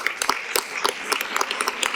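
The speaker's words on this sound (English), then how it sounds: "one more round of applause for our outgoing board members" Applause at a school board of education meeting for departing board members: a room of people clapping nearby in a fairly sparse, uneven patter with distinct sharp individual claps.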